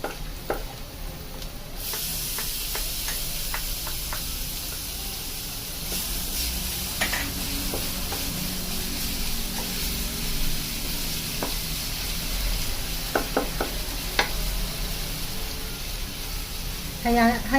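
Garlic fries in a pan with a steady, bright sizzle and hiss that holds loud and even throughout, dotted with occasional sharp pops and crackles.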